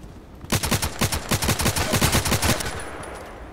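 Rapid automatic gunfire from Contract Wars rattles in one sustained burst of about fifteen evenly spaced shots, loud and close, then cuts off into a faint background hum.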